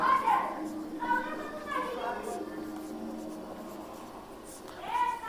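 Pen or pencil scratching on paper while working a trigonometry problem, soft intermittent strokes running beneath continuous close-up speech from a man explaining.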